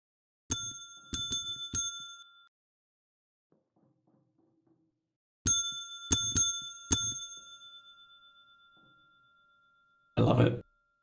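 Bright ringing bell alert chimes in a Minecraft stream, in two quick clusters of three to four strikes that ring out and decay, followed by a short burst of voice at the end.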